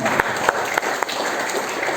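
An audience applauds to welcome a speaker onto the stage at a National Youth Day celebration, a dense, steady wash of many hands clapping with a few sharper individual claps standing out.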